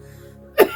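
A single short, sharp cough bursts out near the end after a quiet, low hum.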